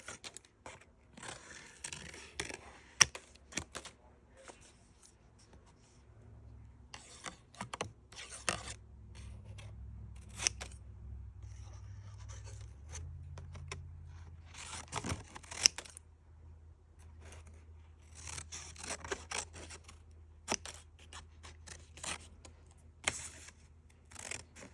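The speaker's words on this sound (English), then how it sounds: "just love the sound of snipping paper." Scissors snip through paper in short bursts of crisp cutting and rustling during a stamping and papercraft session, close and clear, with quieter gaps between cuts and a low hum underneath.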